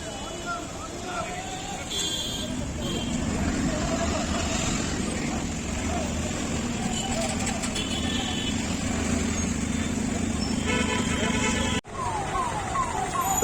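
A Yamaha FZ-X motorcycle riding along a road, with a continuous engine and road rumble plus wind noise throughout, passing traffic sounds and horns, and a rider talking over it.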